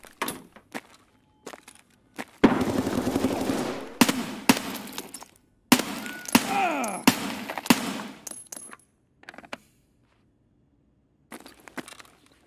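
Gunfire in the game Escape From Tarkov: several loud bursts and sharp single shots break out in clusters, with quieter gaps between them and a final short burst after a stretch of near silence.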